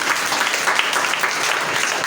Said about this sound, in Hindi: खुदावंद के जलाल के लिए और खुदावंद के खादम के लिए हम जोरदार ताली बजाएंगे